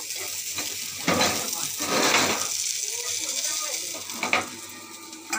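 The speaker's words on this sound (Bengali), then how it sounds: "এখন হচ্ছে বেগুন ভাজা, পটল ভাজা, আর এখানে মাংসর আলু ভাজা হচ্ছে।" Eggplant, pointed gourd and potatoes sizzle in a frying pan, with a steady hiss, bursts of louder crackling and occasional utensil clinks and stirring.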